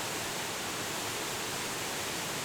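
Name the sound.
Shizuku waterfall in the mountains, Susami, Japan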